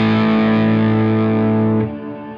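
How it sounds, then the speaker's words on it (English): A sustained, distorted electric guitar tone held frozen and pitch-shifted through the Neural DSP Archetype Rabea plugin rings loud and steady, then drops abruptly to a thinner, quieter shimmer near the end. "It actually pitch shifts the sound that you're freezing"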